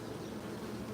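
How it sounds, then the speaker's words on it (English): Honey bees drone steadily at an open hive during an inspection, a dense, continuous buzz filling the whole moment at close range. "The bees are buzzing in."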